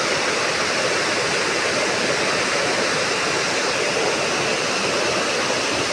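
Floodwater rushes in a steady, loud, unbroken roar across a rain-soaked road, with no voices.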